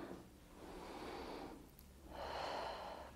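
A deep, audible breath drawn in during a pregnancy leg exercise, two long, close inhalations separated by a short pause, with no speech.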